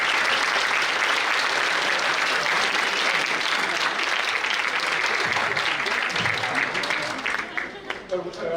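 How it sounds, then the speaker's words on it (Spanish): A lecture-hall audience applauds a guest speaker at a scientific conference, sustained dense clapping from many hands that holds steady for several seconds and then thins out and fades near the end. "Un aplauso, por favor."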